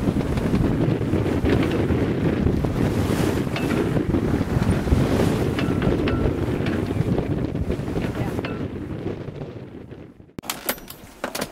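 A sailboat underway at sea, with a loud, steady roar of wind buffeting the microphone and the rushing wash of waves along the hull for most of the stretch, easing off near the end.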